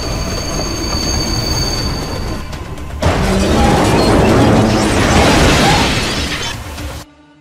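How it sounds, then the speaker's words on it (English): A train brakes hard and comes tearing through a station, a loud, dense roar of wheels and rushing metal that surges at the midpoint and cuts off abruptly near the end. "he claps on his brakes and the train comes tearing through the station"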